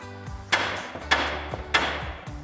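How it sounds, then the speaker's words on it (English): A steel hammer taps the side of a 2007-2018 Silverado 1500 front suspension knuckle to knock the ball joint loose. Three sharp, ringing strikes land about half a second apart, each trailed by lighter taps. "Now we can grab a hammer and start tapping on the side to dislodge the ball joint."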